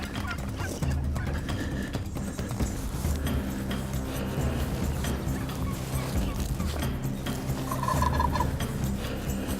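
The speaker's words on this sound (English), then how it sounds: "that gobbler gobbled a few times" A wild turkey gobbler gobbles in the open outdoors, several rattling calls over a steady background, with faint voices at times.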